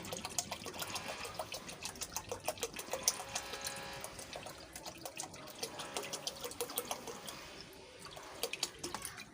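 Water pours and trickles into a container while cold juice is being made, a splashy stream with dripping bursts that rises and falls in intensity, fairly close, with no talking.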